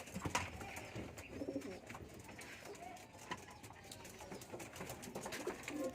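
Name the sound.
pigeons cooing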